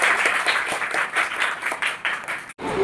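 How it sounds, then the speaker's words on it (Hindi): A classroom of students claps loudly to welcome their newly elected class monitors. The short, vigorous burst of clapping breaks off for an instant near the end and then resumes. "आप सभी एक बार ज़ोरदार तालियों से अपने नए मॉनिटर का स्वागत"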